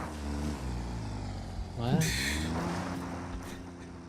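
A tractor in Satisfactory, a low droning engine rumble with a rising whine as it closes in, with a short spoken exclamation over it.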